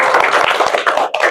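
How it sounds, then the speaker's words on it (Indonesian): An audience at a university lecture session claps together in a dense, continuous patter of applause, fairly close and loud, with no talking. "tepuk tangan dulu untuk Christian Jonathan."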